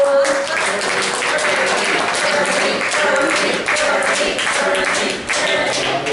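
A live comedy show audience gives a guest a warm round of applause, a dense continuous wash of clapping hands that holds steady throughout with faint crowd murmur mixed in.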